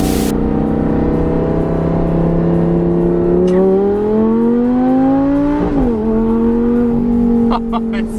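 A Bugatti Chiron on its stock exhaust revs loud and close, its deep engine tone climbing and settling through several swells, with a sharp high squeal near the end.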